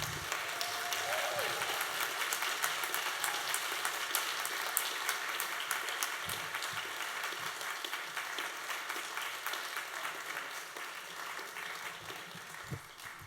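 Applause from the audience at a Brexit campaign event rolls on for over ten seconds, a quiet, somewhat distant crackle of many clapping hands that slowly fades.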